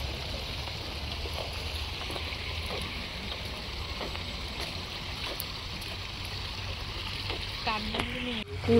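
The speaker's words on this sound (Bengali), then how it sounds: "দেখুন সুন্দর পানির আওয়াজটা, একেবারে রিয়েল পানির আওয়াজের মতন।" A park fountain in Gage Park, Canada, pours in a steady, close rushing wash of water. Faint voices and a short tonal sound cut in near the end.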